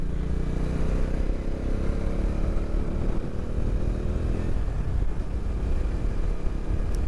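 A motorcycle rides along winding hill station roads, its engine a steady drone that is masked by heavy wind rush throughout.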